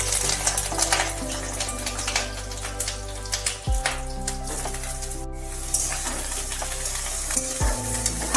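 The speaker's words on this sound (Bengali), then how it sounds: "তেলটা গরম হয়ে গেলে ভালোভাবে দিয়ে দিতে হবে এইভাবে কেটে রাখা বেগুন" Diced eggplant frying in hot mustard oil in a kadai, a loud, dense sizzle over a steady background hum, broken by spatula scrapes and occasional clattering stirs.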